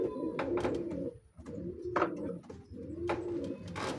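Pet pigeons cooing close by in their coop, a few soft, throaty rolling coos repeating at an easy pace, with light rustling between calls and no talk.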